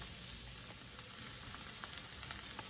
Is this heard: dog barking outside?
no